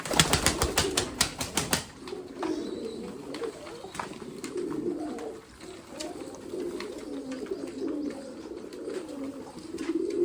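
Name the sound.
pigeons cooing in a breeding cage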